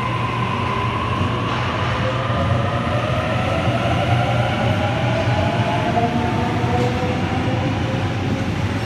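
A Sydney train pulls into a platform at Wolli Creek station, a loud, steady rumble and whine of wheels and motors that fills the whole stretch.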